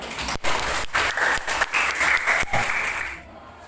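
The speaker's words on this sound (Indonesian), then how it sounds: "Kita berikan aplaus teman kamu." A classroom of students claps for a classmate, a steady burst of applause lasting a few seconds before it quickly fades out.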